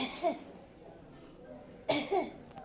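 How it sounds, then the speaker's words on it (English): A patient coughs twice on request during an abdominal examination, with the hand checking the groin for a cough impulse. The coughs are short, moderately loud bursts separated by a quiet pause. "ask the patient to cough"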